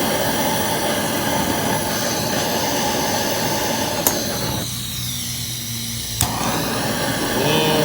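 A gas torch heating an alternator bearing gives a steady, loud roaring hiss that runs throughout, broken by two sharp metallic clicks and a brief dip in the flame noise.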